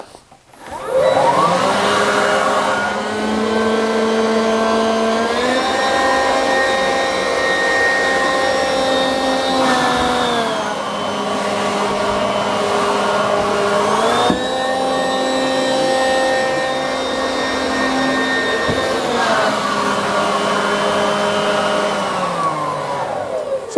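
A Hyundai cordless leaf blower runs in vacuum mode with a loud, steady whining roar whose pitch shifts a few times as it draws air, heard alone without talking.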